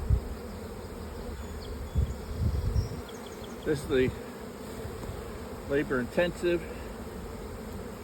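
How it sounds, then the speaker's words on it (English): Honey bees swarm around beehive supers on a hot day during a honey harvest, a steady close buzz of many insects that runs throughout while someone speaks in short bursts over it. "I'm going to try and get most of the bees out of these supers here."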